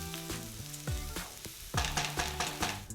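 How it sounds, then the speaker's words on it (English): Scallions and grated aromatics sauté in a pan for soupless tantanmen ramen, giving a steady close sizzle broken by repeated knocks and scrapes of stirring. "Now we're gonna saute these until everything starts to brown."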